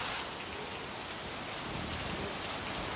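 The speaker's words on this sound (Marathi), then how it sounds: "खूप पाऊस आहे" Heavy rain falls at a farmhouse, a steady, even hiss of downpour that stays constant throughout with no voices.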